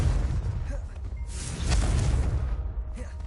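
A Confringo explosion spell in Hogwarts Legacy on PS5 bursts in a dense, loud roar of booms and whooshes that fills the short span, with a sharper blast near the middle.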